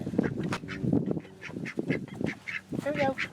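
Ducks at a campground quack in quick, uneven bursts close by, while people talk over and between the calls.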